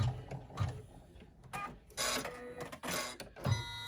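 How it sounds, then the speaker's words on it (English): Embroidery machine stitching in the hoop while making a coffin-shaped crossbody bag, with rapid mechanical whirring bursts, rhythmic needle clatter and short pauses where the thread cutter acts, close and fairly loud, no voice. "my machine does all that crazy jiggle jaggling around, and when I hear the thread cutter stop"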